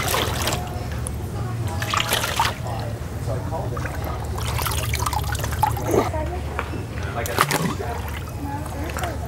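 A Higdon XS Pulsator duck decoy pumps water through clear tubing, giving a continuous close splashing and trickling with a low steady motor hum, under a voice.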